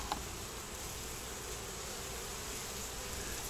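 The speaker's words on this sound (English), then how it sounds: "the rest of the bees are carrying on their business, bringing back pollen" Honeybees drone steadily in front of a hive while foragers return with pollen, a continuous even buzz filling the air with no voices.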